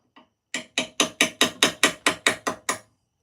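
A tiny hammer taps a small steel nail set: ten quick, evenly spaced metallic raps close by, after one faint lead-in tick, with no talking.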